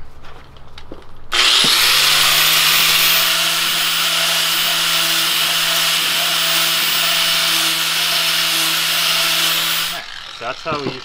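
A power tool cuts a steel tube meant for custom tie rods on a Baja Bug, a loud steady whine lasting about eight seconds with brief talk and handling noise before and after.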